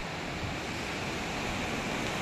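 Arabian Sea waves wash ashore at Devghali beach, a dense continuous roar of surf mixed with wind, loud and unbroken throughout, with no voices.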